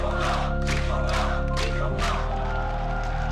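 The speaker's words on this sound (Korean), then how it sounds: "광장의 함성으로" A large crowd roars in a public square, a dense, sustained wall of shouting voices heard under steady tonal music throughout.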